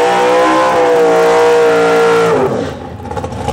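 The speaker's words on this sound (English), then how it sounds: "he's ready to do some business in the super gas car now" A super gas drag racing car launches at Gimli Motorsports Park, its engine a loud, close, high-revving howl that climbs in pitch and cuts off sharply, leaving faint crowd and track noise.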